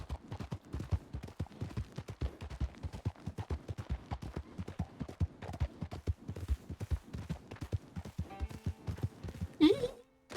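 Horse hooves clip-clop steadily on the ground in a close, rhythmic sequence of sharp strikes, with a brief scuffle and a voice near the end.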